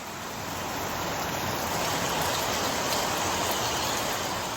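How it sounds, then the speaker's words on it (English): Steady, dense rain falls around a coastal guest house under construction, a continuous close hiss with no voices. "that rain has arrived once again"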